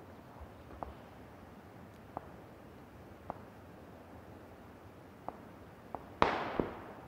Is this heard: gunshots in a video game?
yes